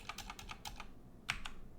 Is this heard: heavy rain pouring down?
no